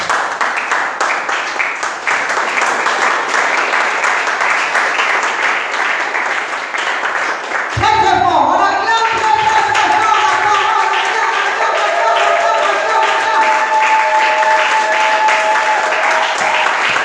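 A church congregation bursts into sustained applause and cheering, loud and steady for about eight seconds before giving way to a noisier stretch of crowd sound with a tonal note sounding through it.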